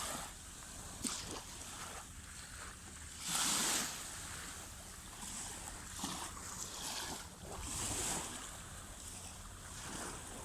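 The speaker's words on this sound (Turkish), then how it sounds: "Bir tane de balıkçı motoru var şurada." A fishing boat's motor out at sea, heard far off beneath steady waves, surf and gusts of wind buffeting the microphone, with no voices present.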